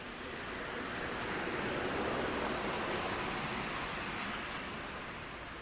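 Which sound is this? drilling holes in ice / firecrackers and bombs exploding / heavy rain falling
heavy rain falling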